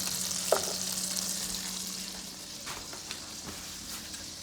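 Butter sizzles and crackles steadily in a hot pan, a close, even hiss with a few small pops and a faint clink near the start.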